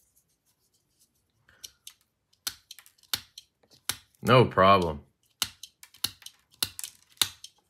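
Sharp, crisp scissor snips cutting plastic cotton swabs repeat at an irregular pace, close by, with a short spoken remark in the middle.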